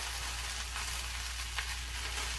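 Sliced white mushrooms and onion sauteing in a pan make a continuous soft sizzle with faint stirring crackles, steady and close, with no voices.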